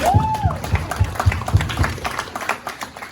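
A burst of audience clapping and cheering, a few loud claps standing out near the start before the applause thins out.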